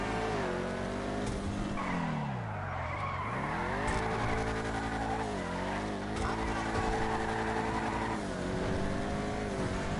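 Tires squeal and skid continuously as a revving engine rises and falls through long drifting slides in GTA 5 Online, loud and close, with a voice now and then underneath.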